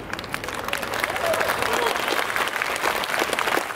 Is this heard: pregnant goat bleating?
no